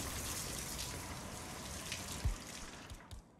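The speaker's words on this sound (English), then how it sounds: "Let me overflow this sink." A sink overflows with running water in the Hitman 3 video game, a steady, faint rushing gush that goes on throughout with a small knock near the end and no talking.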